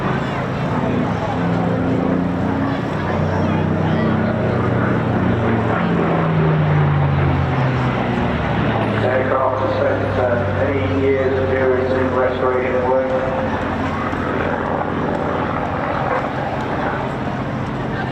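A propeller aircraft flies at the Bournemouth Air Festival, its engines a steady, fairly loud drone that rises and falls in pitch throughout, while a commentator talks over it.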